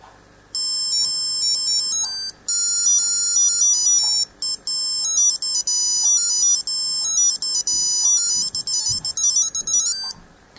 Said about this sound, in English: My favourite alarm is alarm 1, which if I'm not mistaken is Wolfgang Amadeus Mozart Ein Klein Nachtmusik.